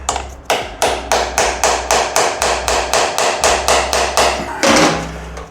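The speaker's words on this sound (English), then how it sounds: "With my favorite tool, which is a hammer." A hammer taps a stuck screw on a Honda CRF300L motorcycle, about seventeen sharp, evenly spaced metallic strikes in a steady rhythm, loud and close, with no talk.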